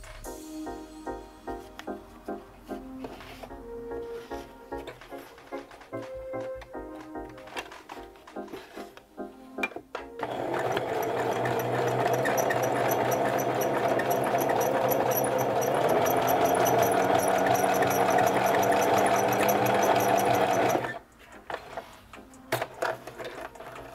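Sewing machine running a zigzag stitch on a bra, with softer machine whirring early on, then a loud steady burst of rapid stitching for about eleven seconds before it stops.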